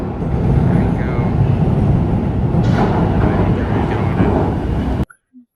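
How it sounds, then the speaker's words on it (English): Vienna train, a loud continuous rumbling roar of the train running close by, steady until it cuts off abruptly near the end, with a voice faintly present. "this is our train here"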